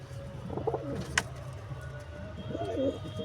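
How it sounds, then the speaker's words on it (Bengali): Arshad-bloodline pigeons cooing softly in two short bouts, with a brief sharp click between them and steady background noise. "এটাও কিন্তু আর্শাদ ব্লাডেরই পায়রা"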